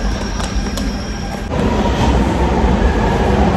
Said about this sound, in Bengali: এই যে ট্রেন চলে আসছে, গ্রিন লাইন।